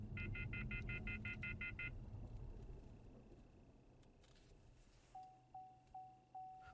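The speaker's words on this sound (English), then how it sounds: "to give us an audible indicator when the fault is present" A Matco MAXPRO scan tool sounds a series of short, evenly spaced electronic beeps as a fault threshold is crossed while driving, at first a rapid burst and later slower single beeps over faint road and cabin noise.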